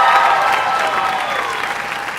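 Loud audience applause at a school band and orchestra concert, a dense burst of clapping right away that gradually eases over a couple of seconds.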